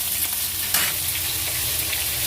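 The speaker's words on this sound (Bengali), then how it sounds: "চলো পেঁয়াজটা ভাজা হোক।" Sliced onion fries in a hot pan with a steady, bright sizzle. A single spatula stir rustles through it partway.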